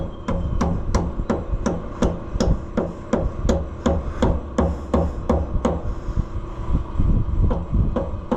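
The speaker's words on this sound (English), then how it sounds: "we are going to tap it down in with the handle of my hammer" A hammer handle taps a part down into an Oliver 1655 tractor engine sleeve: steady, rapid tapping, about two knocks per second, sharp and close, repeated over and over with brief pauses.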